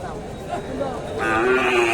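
A Sahiwal-cross bull at a busy cattle market gives a short, close moo that swells toward the end, over a background of crowd noise.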